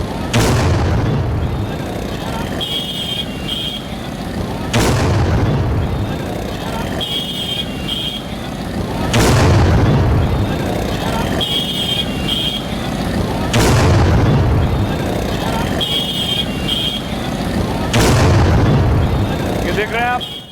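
A Pakistani army vehicle is blown up: heavy booming blasts recur about every four to five seconds, loud and rumbling, with a voice talking over them throughout.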